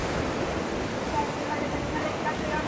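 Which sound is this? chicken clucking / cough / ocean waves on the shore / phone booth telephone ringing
ocean waves on the shore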